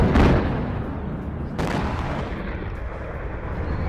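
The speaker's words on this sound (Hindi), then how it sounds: "रूसी मिसाइल गिरने से जोरदार धमाका हुआ।" A deep, heavy Russian missile blast in Kyiv rumbles close by, followed by a sharp second crack and a long, roaring low-frequency wash with no voices.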